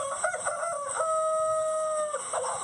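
Chickens cluck nearby on a farm, and a rooster crows once in a long, drawn-out call over a steady background hum.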